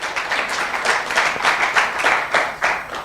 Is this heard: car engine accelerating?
no